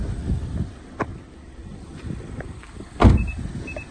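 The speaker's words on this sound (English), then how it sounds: "Let me drop the windows and we'll finish up outside" Power windows on a Mazda MX-5 RF 2.0 Skyactiv-G Homura lower with a faint motor hum under outdoor wind noise, broken by a few soft knocks and one louder thump near the end.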